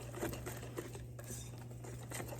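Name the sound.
wire whisk mixing cornmeal pudding batter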